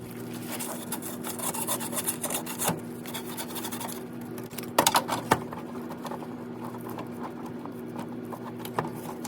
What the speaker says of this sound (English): You guessed it, more sanding.